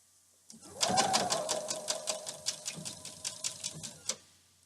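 A sewing machine stitches through a quilt in a steady rapid run of needle clicks with a whirring motor hum, close and clear, then slows to a few spaced stitches before stopping.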